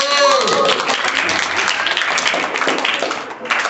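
Children in a classroom clap together in a brief, loud burst of applause during a maths lesson, dense and even throughout, with a teacher's voice briefly audible at the start.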